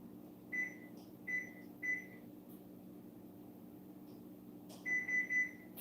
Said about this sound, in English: I need to set the oven timer too.